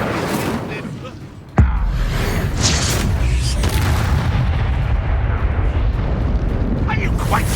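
An Incendio fire spell in Hogwarts Legacy goes off as a sudden loud blast that becomes a sustained, roaring whoosh of flame.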